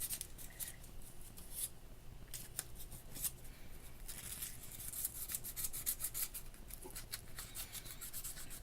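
Fine 600 to 1200 grit sandpaper rubbing a flute rod clean of crud, quick scratchy back-and-forth strokes in uneven bursts, close and soft, with no talk.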